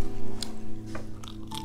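Crispy fried salt and pepper pork chop is bitten and chewed up close, with a few sharp crunches over a low, steady background hum.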